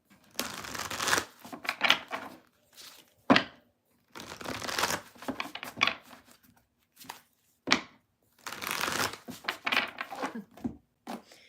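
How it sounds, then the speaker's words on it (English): Several bursts of a deck of cards being riffled and shuffled, crisp flurries separated by short pauses, close and fairly loud with no talking. "Final deck to shuffle."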